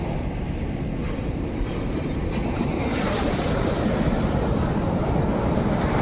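Sea waves wash steadily onto Pondicherry beach, a dense, continuous roar of surf with wind rushing across the microphone and no pauses.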